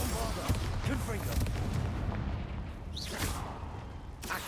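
Confringo and Bombarda blasting spells burst in quick succession in the Hogwarts Legacy video game: booming impacts and whooshes over dense, busy combat noise, with a voice talking throughout.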